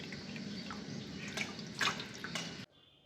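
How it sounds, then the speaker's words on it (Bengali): Water splashes and trickles during a child's bath, a continuous close wet pouring with small drips and spatters, ending abruptly in near silence. "এই দেখো স্নানু করছে এখন, গোপুসোনা স্নান করছে"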